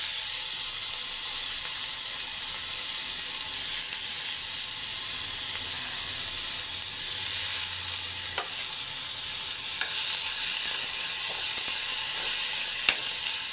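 Chopped onions sizzle and fry steadily in a pan over ginger garlic paste, a continuous bright hiss with occasional faint stirring clicks close by.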